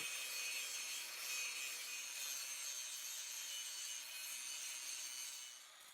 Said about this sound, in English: I take some time with the grinder to remove some of the grooves left by the torch.